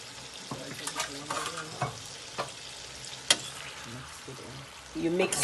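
Ackee and saltfish, seasoned with salt and black pepper, sizzles while frying in a pan as it is stirred, with scraping clicks and bursts of hiss over a steady crackle, plus a louder sizzle rising at the end.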